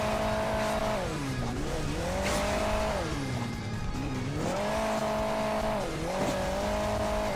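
A sports car racing in Hill Climb Racing 2, a continuous engine drone rising and falling in pitch as it revs and shifts, loud and close, with faint tire noise.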